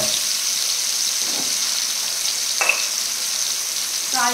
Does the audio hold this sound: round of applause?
no